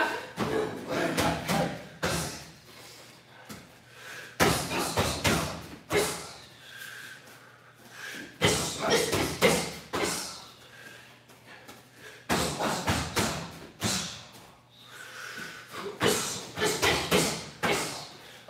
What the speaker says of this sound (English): Now mix it up. One time a left kick, one time a right kick.